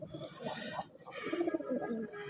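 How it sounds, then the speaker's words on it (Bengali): Domestic coloured pigeons at a breeding farm in Manikganj, Bangladesh, coo and call continuously, a dense close chorus of throaty coos with thin chirps layered over it and no talking. "কবুতরগুলো পুরাই অস্থির ডাকাডাকি করতেছে"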